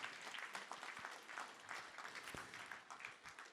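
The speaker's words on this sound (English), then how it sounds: "Big round of applause for our affirmative team" A debate audience applauds the affirmative team at a Monash event on machine learning and optimisation, a steady, moderately distant patter of many hands throughout.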